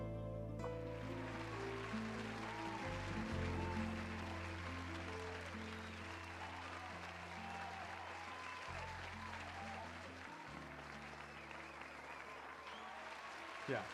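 A canned applause sound effect plays from a computer during a livestream, a soft continuous crowd clapping under sustained music tones, with a voice talking over it.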